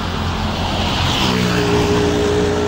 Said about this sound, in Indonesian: Oper gigi yang paling terendah kawan Dewa, hati-hati di sini